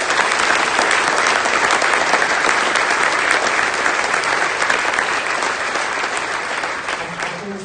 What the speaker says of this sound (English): give us a bigger clap